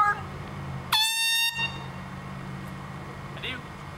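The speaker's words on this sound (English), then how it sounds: "did I tell you I had an air horn?" A single loud air horn blast sounds close by, a bright blaring tone held for about half a second over a low background rumble.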